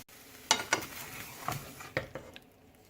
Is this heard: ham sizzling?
yes